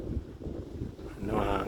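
Wind buffets the microphone near a pigeon roof with a steady low rumble that swells louder near the end; no voices are heard.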